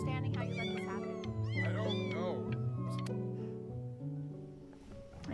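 A cat meows several times in the video game Before Your Eyes, with rising and falling calls laid over a steady, sustained musical score that plays throughout.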